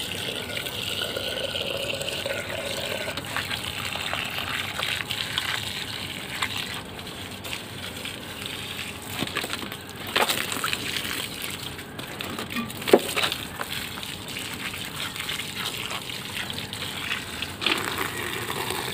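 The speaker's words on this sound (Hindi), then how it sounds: "ये देखिए भर भर के पानी लेंगे पूरा भर के देंगे सबको" Water is poured from a filled container onto small potted garden plants with mulch on the soil, a steady close-up gushing and trickling with a few splashes.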